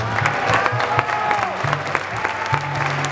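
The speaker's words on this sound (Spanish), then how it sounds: "Bueno, y será que Mariachi se merece un aplauso." Audience clapping for a mariachi band at a Women's Day community event, brisk and fairly close, with some music or tones lingering underneath for a few seconds.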